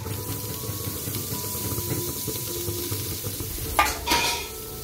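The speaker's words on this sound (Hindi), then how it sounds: "मेथी अच्छे से भुन गई है" Fenugreek fries in a pan for kadhi, giving a steady soft sizzle close up, broken near the end by a brief scraping stir against the pan.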